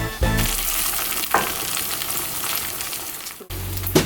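Flour and Tofutti sour cream being stirred into a pan of vegan stroganoff over medium heat, a steady close sizzle and frying hiss with scraping stir sounds and a couple of sharper clatters, no talking.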